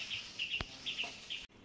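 Small chicks peep in short high chirps, a few scattered calls repeating near a mother hen on a rural farm in Camarines Sur, Bicol, quiet with a brief click and no speech.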